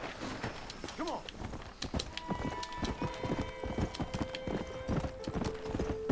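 Horse hooves clip-clop in a steady, quick gait in the Red Dead Redemption video game, with a faint whinny and background game ambience, no talking.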